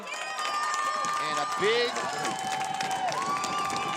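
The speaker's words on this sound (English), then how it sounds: "round of applause from the very strong Benilde" Crowd applause and cheering at a boys lacrosse section final, Blake versus Benilde-St. Margaret's. It rises as a broad, steady wash under a commentator's ongoing talk, with a whistle-like tone running through it.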